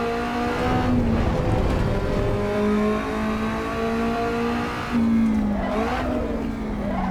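An Alfa Romeo race car driven in the Assetto Corsa EVO game, its engine droning steadily at high revs with shifting pitch, a brief gear-change dip, then a rising rev and tyre scrub.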